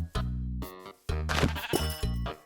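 A Minecraft sheep bleats three times in quick succession, each a clear, buzzy, game-style baa with short pauses between, loud and close with no talking over it.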